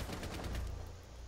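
Rapid gunfire in Rainbow Six Siege, a quick burst of sharp, evenly spaced shots over about a second, fairly faint and muffled before trailing off.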